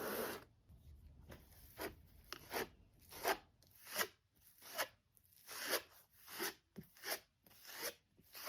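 Scraper dragged across a canvas to spread paint, a series of rough rasping strokes in irregular rhythm, close and fairly quiet with no talking.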